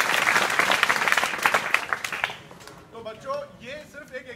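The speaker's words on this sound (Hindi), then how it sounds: "आकांक्षा के लिए जोरदार ताली बजाएं।" Loud audience applause at a school gathering at an inter college, dense clapping for about two seconds before thinning out into scattered claps and chatter.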